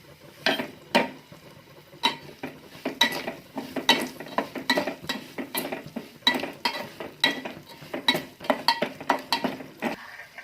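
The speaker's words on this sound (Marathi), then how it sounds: "त्यासाठी आपण सुरुवातीला तूप टाकून घेतले आहे असली। त्यात आपण बगर आता भाजून घ्यायची।" Barnyard millet (bhagar) roasting in ghee in a pan, stirred with a utensil: repeated close scraping and clinking strokes at an irregular rhythm, with a light crackle underneath and no talking.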